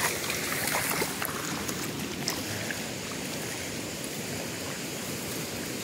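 Floodwater in Boyd County, Nebraska, pours over a road in a steady, dense rush of noise that stays loud and unbroken throughout, with no voices.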